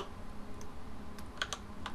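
Soft, quick computer keyboard key presses tap out a shortcut while modelling in Blender, a few light clicks over a quiet room hiss.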